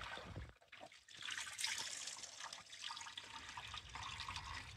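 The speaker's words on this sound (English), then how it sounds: "I do move the wool around in the hot water because I want the dirt to release from it and the lanolin" Sheep fleece wool being swished around in a bucket of hot water, giving a continuous watery sloshing and trickling, close by and moderately soft, with a brief quieter gap near the start; no voices.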